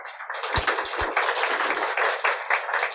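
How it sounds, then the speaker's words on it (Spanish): Church audience applauding together for Jesus during a Spanish-language sermon, a dense, steady burst of many hands clapping at close range, filling the whole stretch with no voices over it. "Dale un aplauso a Jesús."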